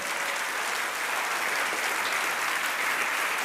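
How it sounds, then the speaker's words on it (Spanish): Steady, dense applause from a church congregation, loud and continuous throughout with no pauses. "dele un fuerte aplauso al Señor"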